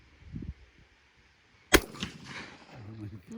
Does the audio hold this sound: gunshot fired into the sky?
yes